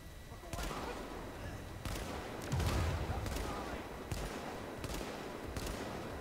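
Gunshots in The Division crackle as a string of muffled, fairly distant bursts spaced about a second apart over a dense background rumble of combat.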